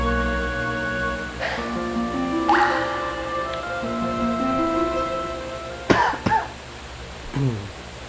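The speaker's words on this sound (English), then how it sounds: "Excuse me there, I have a bit of a cough." A person coughs a few times at close range, short sharp bursts toward the end over a quiet background of soft game music, with no speech.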